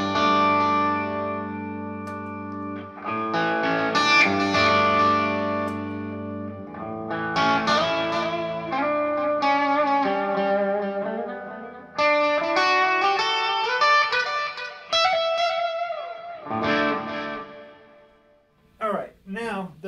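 Sustained chords from an LS30 run through a distortion effect, with gritty, buzzing harmonics on each held chord and pitch shifts between them, fairly loud, ending with a brief swell and cutoff.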